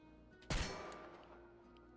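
A single gunshot fired at a lock in the video game Chernobylite, a sudden loud crack that decays into a rumbling tail over a low ambient game hum.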